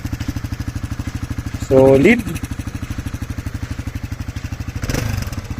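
A 2024 Kawasaki KLX300SM motorcycle engine idles close by with a steady, fast thumping pulse. Someone briefly speaks over it near the start, and a second louder burst comes toward the end.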